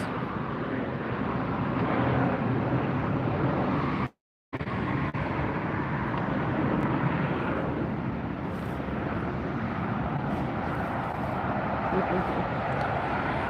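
A small jet takes off at LAX airport, its broad continuous roar rumbling at a distance under a speaking voice, broken by a brief dropout.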